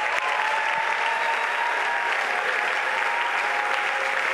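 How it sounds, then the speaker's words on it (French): A church congregation claps together for the risen, producing a loud, continuous and evenly dense roar of applause that fills the room from start to finish. "Est-ce qu'on peut acclamer pour les ressuscités?"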